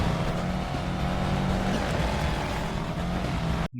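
Rally car engines roar in the racing video game Sega Rally Revo on a PSP, a dense, continuous, loud engine and road noise that cuts off abruptly at the end.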